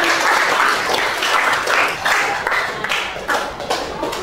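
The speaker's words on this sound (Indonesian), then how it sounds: "kita beri aplaus untuk Naufal Rafi." A classroom of students claps for a classmate, a dense, even burst of applause that holds steady before tapering slightly at the end.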